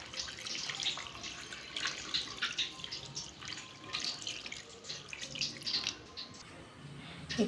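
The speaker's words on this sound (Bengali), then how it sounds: "এবার এর মধ্যে দেব জল" Water runs steadily into a cooking pot holding paneer, a continuous splashing pour with faint dripping, close by and without talk.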